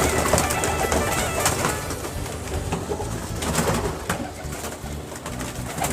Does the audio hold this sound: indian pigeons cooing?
yes